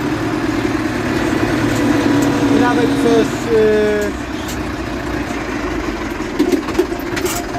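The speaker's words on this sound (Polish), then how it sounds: "No, no podoba mi się ten silnik, jest 6-cylindrowy" A six-cylinder engine on a Bizon combine harvester idles with a loud, steady rumble throughout, while someone talks over it.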